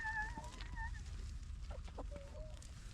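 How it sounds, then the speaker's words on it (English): Chickens and a rooster cluck in short calls, with a couple of higher crow-like tones early on, set against steady outdoor low rumble, a person close by. "Rooster."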